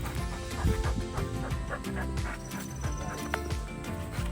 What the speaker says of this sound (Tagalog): Ayun si Bruce Lee, yung aming kabayo